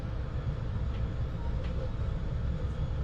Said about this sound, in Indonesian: Madiun Jaya masuk, Singasarinya berangkat.